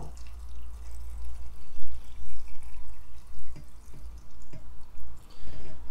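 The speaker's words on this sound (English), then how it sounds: "just pour it over your mushrooms" Hot pickling liquid poured over scarlet elf cup mushrooms in a jar, a steady trickling pour with uneven splashes and drips, close and fairly loud.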